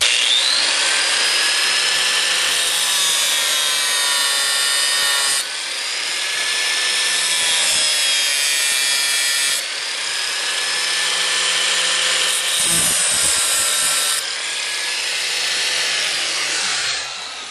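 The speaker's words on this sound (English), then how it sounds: "I'm getting ready to cut this, a little slot in it" A power cutting tool grinds a small slot into a bolt during ECU removal on a B6-B7 Audi S4, a continuous harsh high-pitched whine close by with brief breaks and shifts in load.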